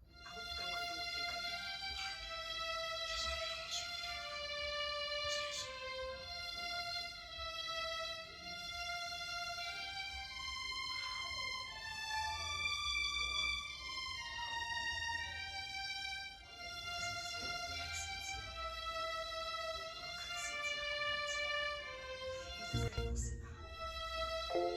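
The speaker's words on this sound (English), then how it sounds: "Then the second violin, which is actually the main violin, sounds like this" Main violin line of the beat, a bright sustained melody with harmonics layered over a steady full beat, loud and continuous throughout with no talking.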